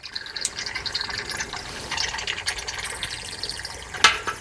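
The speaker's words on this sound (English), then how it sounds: "I'm going to crack it, start draining. You can hear the fuel coming down." Diesel drains from the opened fuel filter housing of a Ram with the 6.7L Cummins engine into a container, a close, continuous trickling splash with a brief sharper spatter near the end.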